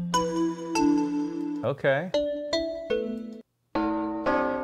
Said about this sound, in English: These are all bells.